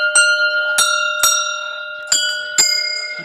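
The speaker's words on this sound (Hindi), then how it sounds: "देखिए घंटियाँ," Temple bells ring in a large hillside village temple courtyard: about five separate metallic strikes, close and bright, each leaving a long shimmering ring that overlaps the next.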